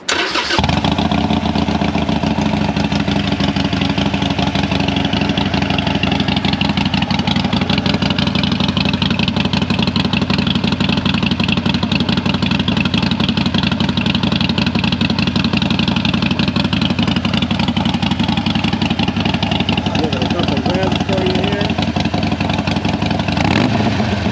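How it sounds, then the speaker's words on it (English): A Harley Sportster fitted with Vance and Hines slip-on exhaust and a Screaming Eagle air cleaner cranks to life, then rumbles loudly and steadily at idle with occasional revs, close by and without talk. "let's see if we can get a good sound clip of this bike starting up"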